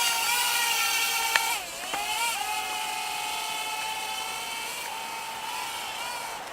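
A small Syma X20 quadcopter drone buzzes with a steady, high-pitched rotor whine nearby, its pitch dipping and wavering briefly as it flips forward, then settling back into a constant hover.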